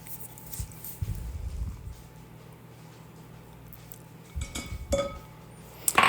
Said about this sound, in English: Whisk those wet ingredients together